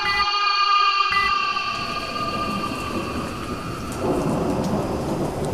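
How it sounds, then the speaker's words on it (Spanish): Heavy rain pours steadily outside with deep thunder rumbling through the downpour, loud and continuous, the storm swelling again near the end. "Afuera llovía copiosamente, con algún que otro rayo haciéndose sentir con su estruendo."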